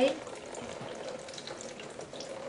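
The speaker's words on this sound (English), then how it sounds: "this is called a water knot. And if you can see, those 2 streams have merged into 1" Two running water streams merge into a single flow, producing a steady, continuous splashing rush that is close and fairly loud, with no talk.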